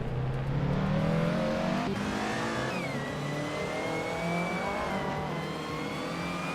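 A 1999 Peugeot 306 Maxi Group N race car in a racing video game accelerates, its engine tone climbing through the gears with layered whines from other cars close behind, loud and steady.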